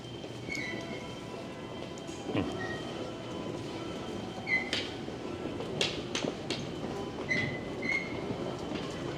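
A metro train at a Vancouver station, a steady rumble of wheels on rail with high squeals and metallic screeches, plus occasional clicks and thumps from the platform.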